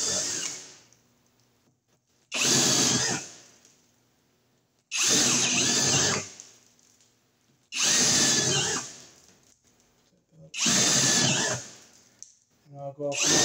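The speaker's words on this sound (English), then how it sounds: "So I can drill holes." A power drill bores holes into a wood wall in four long bursts of about a second and a half each, loud and close, with quiet pauses between them and a fifth burst starting at the end.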